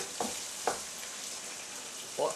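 An Italian-style dish with tomato purée frying in a pan, a constant broad sizzle with three brief scraping stirs of a utensil against the pan, close up and without talking.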